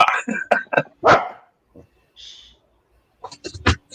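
Puppy yapping indoors in short bursts, overlapping with a person talking nearby, then a brief gap and another cluster of barks mixed with speech.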